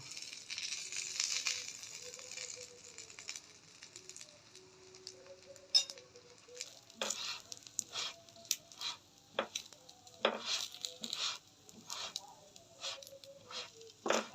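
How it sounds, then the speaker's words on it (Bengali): An aloo kulcha fries in ghee on a pan, a soft, quiet sizzle broken by scattered light taps and scraping as it is flipped and turned. "ভালো করে উল্টে পাল্টে ভালো করে ভাজা নিব।"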